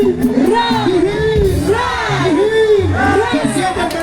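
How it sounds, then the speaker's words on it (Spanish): A crowd cheers and whoops loudly for Natalie Salazar at an anniversary ceremony, a dense and continuous roar of shouts and voices close by. "¿dónde están los aplausos para Natalie?"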